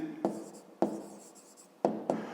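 A pen scratches quickly across paper in four short, distinct bursts while an answer to a maths exercise is written down, close and quiet with no voices.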